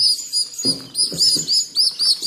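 High, thin chirps from four young Javan pied starlings (jalak kebo) in a nest repeat in quick bursts, close and clear, with soft rustling underneath.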